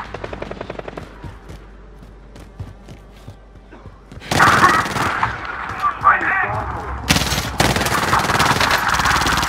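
Gunfire in a Warzone match: a rapid run of faint shots at first, then heavy bursts of close automatic fire and impacts, with dense loud volleys near the end.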